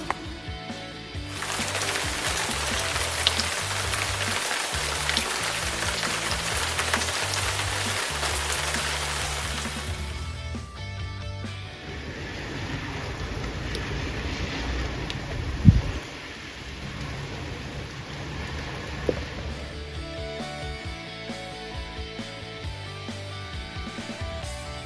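Heavy rain falls outdoors in a steady, dense hiss for several seconds, then cuts off into a quieter indoor room tone with a few scattered knocks.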